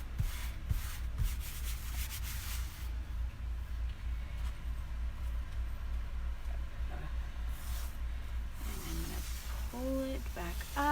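A chalk transfer stencil is rubbed against a board with quick, scratchy strokes in a close burst. Quieter handling noise follows, and a voice is heard briefly near the end.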